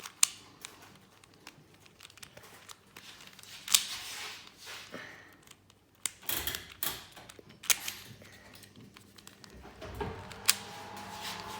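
Plastic pieces of a 3x3 Rubik's cube being twisted and worked, heard as a series of close, sharp clicks, creaks and crinkly scrapes scattered irregularly over a quiet background, with a louder cluster of clatter midway.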